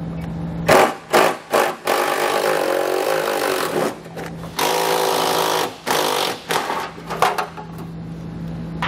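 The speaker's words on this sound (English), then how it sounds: "I'll go ahead and grab my socket and pull those out." A powered socket tool whirs in repeated short bursts and longer runs, loud and close, removing heat shield fasteners under a 2015 Honda Civic, with brief pauses and clicks between.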